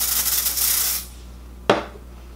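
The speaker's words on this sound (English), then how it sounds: "you spray it directly on the brush" Foundation is sprayed onto a buffing brush in a steady hiss lasting about a second, then a sharp single tap or clack follows after a short quiet pause.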